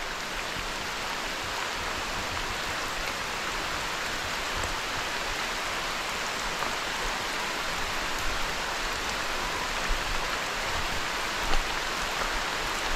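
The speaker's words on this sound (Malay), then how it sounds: "macam lebat hujan ni" Heavy rain pours steadily over a flooded oil palm plantation, a dense, even hiss of drops with no pauses and no talk.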